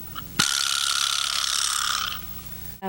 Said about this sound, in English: The next instruments that also we use is this called vibra slap.